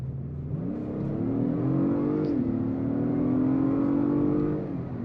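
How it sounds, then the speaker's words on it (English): A 2022 Acura MDX Type S turbo engine pulls hard from inside the cabin, a steady rising drone that climbs in pitch, dips at a gear change, then builds again before easing off, loud and continuous with no voices. "Turbo spooled up, and it was off."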